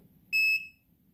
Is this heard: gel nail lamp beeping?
yes